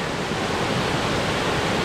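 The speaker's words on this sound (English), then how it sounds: "It's making quite a loud noise as the water gushes over there." Water gushing loudly in Ravenfield, a Rotherham parish, amid snow and ice: a steady, dense broadband rush with no breaks, close and constant throughout.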